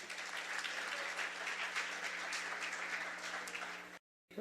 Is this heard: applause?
yes